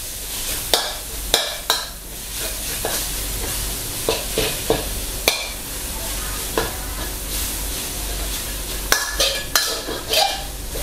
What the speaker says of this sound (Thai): คั่วให้เนื้อหมูเปลี่ยนสี